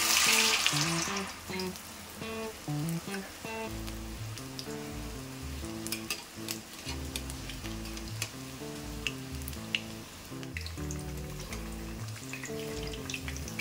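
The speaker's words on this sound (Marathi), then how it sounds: "तर वडे आता आपण गोल्डन ब्राउन होईपर्यंत चांगले तळून घेऊया।" Medu vada, savory lentil fritters, deep-fry in hot oil with a steady bubbling sizzle that runs under louder background music throughout.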